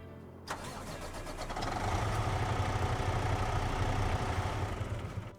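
A truck engine in Farming Simulator 25 cranks with a sharp start, then settles into a steady, loud idling rumble that holds to the end with no talking.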